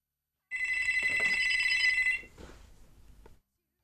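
A telephone rings in a radio studio: a single loud electronic ring burst lasting about a second and a half, followed by a fainter trailing tone, then silence.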